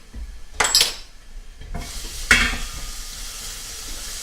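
A spoon stirs chopped onions and a spoonful of garlic in a hot pan, with a couple of clanks against the metal over a soft, continuous sizzle.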